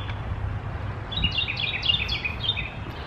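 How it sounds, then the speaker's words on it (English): A bird chirps outdoors in a quick run of high tweets lasting a couple of seconds, moderately clear above a low, steady background rumble, with no one speaking. "That's a happy bird."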